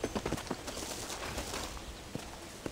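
Horse hooves clip-clopping in the Red Dead Redemption video game, a run of close, distinct hoof beats at first that gives way to a steadier ambient wash, with a few more clops near the end.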